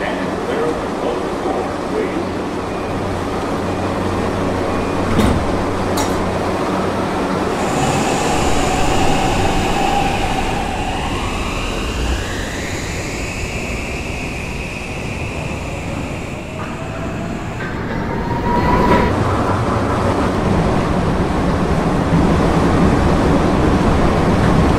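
An R160C subway train runs between Fairview Av and 78th Waterside Blvd on an admin run, with a steady loud rumble of wheels and cars throughout and a rising whine from the motors partway through.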